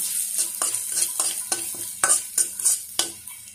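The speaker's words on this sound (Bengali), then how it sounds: "লবণ, গোলমরিচ, সুন্দরভাবে মশলাগুলো কষিয়ে নিচ্ছি" Spices with salt and black pepper stir-fry in a hot pan for an eggplant dish. A continuous close sizzle sits under about a dozen sharp, rhythmic spatula scrapes and taps, and no one speaks.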